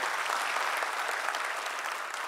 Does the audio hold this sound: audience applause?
yes